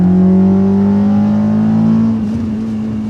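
Honda Accord Type S with a K24 engine revs toward its 8300 rpm redline, a loud, steady, rising engine tone that cuts off and falls away near the end.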